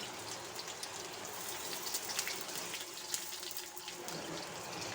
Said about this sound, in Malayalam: കുറച്ച് വെള്ളം ഒഴിച്ച് പാകത്തിന് ഉപ്പും ചേർത്ത്